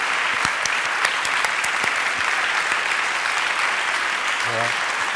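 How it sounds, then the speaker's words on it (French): Audience applause at a clown's talk show, a steady, full round of clapping that carries on for the whole stretch, with a brief voice surfacing near the end. "Attends, je vais faire un applaudissement."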